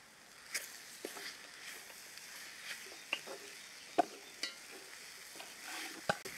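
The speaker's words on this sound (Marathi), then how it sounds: "आता हे सगळं आपण मिक्स करून घेऊया." A date, coconut and sugar filling is stirred in a pan, heard as quiet, close, irregular scraping strokes and soft taps repeating every second or so over a faint low sizzle.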